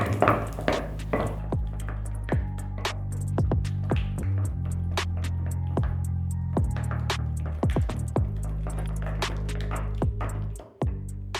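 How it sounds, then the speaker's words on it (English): A spatula beats softened butter in a large bowl for vanilla cake batter, giving a run of close, repeated soft scraping and tapping strokes in an uneven rhythm, with no voices. "So I'll beat my butter for about 2 minutes until it turns pale yellow."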